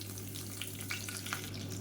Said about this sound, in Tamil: இப்போ எண்ணெய் நல்லா சூடாயிடுச்சு ஒரு டீஸ்பூன் போல் கடுகு சேர்த்துக்கலாம்